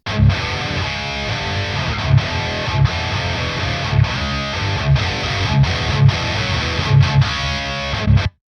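Distorted electric guitar riff through a VTAR metal amp on its hiss voicing, thick and saturated but slightly smoother and more hi-fi, with chugging rhythm and periodic accented stabs, loud and close, ending abruptly.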